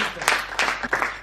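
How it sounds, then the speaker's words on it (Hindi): Brief burst of audience applause at a Hindi comic poetry gathering, a dense wash of clapping that swells and dips within about a second, recorded from among the crowd. "एक बार बहुत जोरदार तालियों से उन्हें आमंत्रित करिए।"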